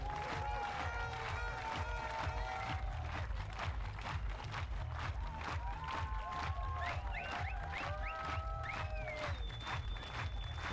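A stadium crowd cheers and claps steadily at the Germany versus Netherlands recurve mixed team archery gold final at the Munich 2022 European Championships, a dense continuous roar with rhythmic clapping and whistles, loud throughout.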